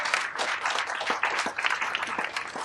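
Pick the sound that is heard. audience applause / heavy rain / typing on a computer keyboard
audience applause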